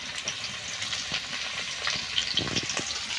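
Potatoes and onions frying in a pan for a chicken and potato curry, giving a soft continuous sizzle with a few light stirring scrapes, fairly quiet and close, no voices.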